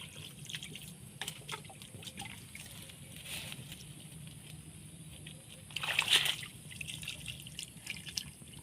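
Water poured from a small container onto potting soil while repotting a young variegated plant, a soft trickle with scattered drips and a brief louder splash, quiet and close over low background hum.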